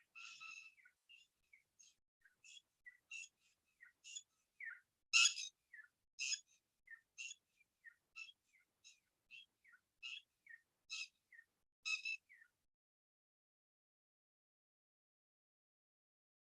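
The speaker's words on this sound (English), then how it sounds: "the birds seem to be in agreement" Birds chirp outdoors in a series of short, high, repeated calls over about twelve seconds, faint and spaced out, then silence.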